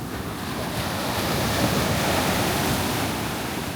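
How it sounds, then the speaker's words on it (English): Big ocean waves surge and crash against the cliffs of Bali, a steady, loud roar of surf and rushing water with wind buffeting the microphone throughout, no voices. "The waves are crazy."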